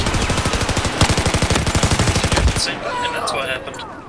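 Rapid sustained bursts from an MG4 machine gun in the video game Battlefield 4, a fast even rattle of shots for over two seconds, then stopping into quieter game ambience.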